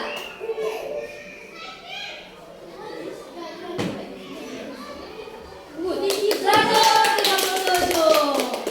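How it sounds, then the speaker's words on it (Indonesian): Classroom applause for a pupil named Wawa: a burst of children's clapping and cheering starts after a stretch of teacher and kid voices, then carries on briskly to the end. "Tepuk tangan dulu Wawa"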